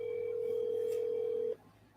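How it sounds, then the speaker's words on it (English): A telephone line on speakerphone while calling a contest winner gives one steady, loud tone lasting about a second and a half, which then cuts off, leaving quiet background hum. "See if he'll answer his phone."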